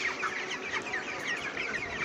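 A flock of 22-day-old broiler chickens clucks continuously in a hot shed, many overlapping murmuring calls forming a dense, steady chatter.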